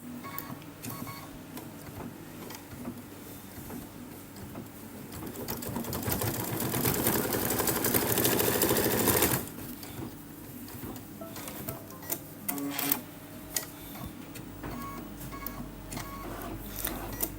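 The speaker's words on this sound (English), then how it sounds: "Now I'm stitching some placement lines for leaves, which is an applique." A Kimberbell embroidery sewing machine stitches applique placement lines for two small leaves on a mug rug. Its rapid needle chatter runs steadily, swelling louder for a few seconds midway, then drops back to a quieter, busy whir.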